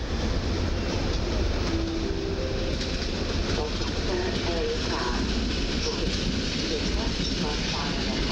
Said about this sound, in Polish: i ten skład popycha Trax EU47001.